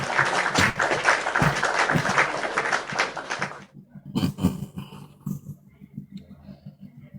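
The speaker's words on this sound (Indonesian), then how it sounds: "tepuk tangan" Audience applause at an interfaith discussion evening, dense clapping that stops abruptly partway through, followed by a few scattered claps and a murmur of voices.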